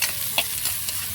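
Oil with onion and tomato sizzling in a pan as a sinigang base with shrimp is started, a soft steady fry broken by a few brief stirring scrapes, close and fairly quiet.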